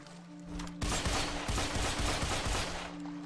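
Rapid gunfire from the shooter game Deadfall Adventures, a dense burst of close automatic shots crackling for a few seconds over a low humming background.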